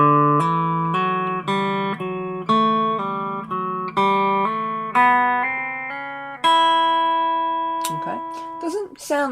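A slow country lick on guitar, a string of distinct plucked notes each ringing and decaying, with a longer sustained note near the end and a few quick bent notes to finish.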